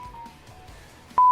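A phone gives out a loud electronic beep tone near the end, after faint background murmur and a brief earlier tone.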